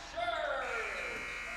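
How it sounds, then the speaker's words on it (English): At a high school boys' basketball game, the end-of-quarter buzzer sounds as a loud electronic tone across the gym, heard under an announcer's excited commentary and crowd noise. "He beats the buzzer again"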